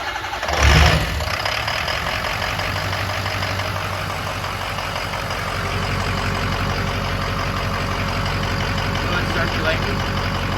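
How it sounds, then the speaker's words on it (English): A 6.0 engine idles steadily and close by after a brief start-up burst, with a faint ticking from a lifter not fully primed, the engine note dominating throughout. "Hear a little popping going on there? Oh, I hear him leave too. Lifter not primed up all the way."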